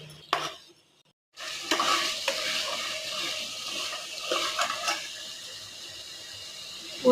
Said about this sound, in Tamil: தயிர் 2 டீஸ்பூன் போட்டு நல்லா கலந்து விடணும்